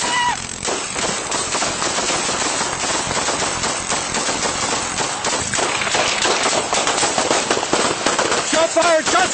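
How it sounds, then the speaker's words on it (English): Gunshots from a police officer in a chaotic struggle, loud sharp cracks packed densely through the clip amid shouting voices and commotion. "Shot fired, shot fired, shot fired."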